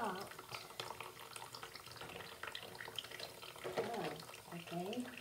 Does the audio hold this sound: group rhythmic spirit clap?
no